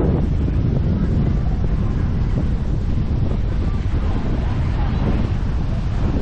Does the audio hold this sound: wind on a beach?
yes